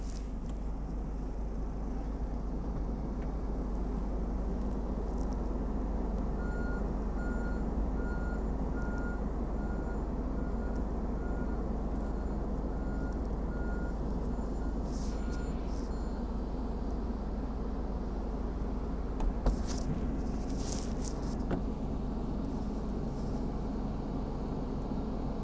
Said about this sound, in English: Let's put this roof up.